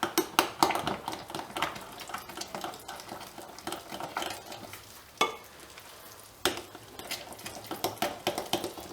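Croissant dough being stirred by hand in a bowl, a steady wet scraping and slapping with scattered clinks against the bowl, close and moderately quiet with no talk.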